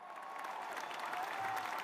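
Steady crowd applause, a continuous wash of many hands clapping at even loudness throughout.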